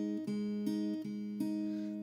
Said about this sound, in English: There's that very definitive guitar part that sounds like this.